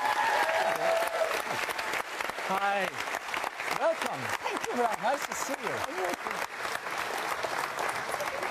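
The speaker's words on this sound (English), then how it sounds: "give her a round of applause" A studio audience on a TV talk show claps steadily as a round of applause, with a host talking over it in greetings throughout.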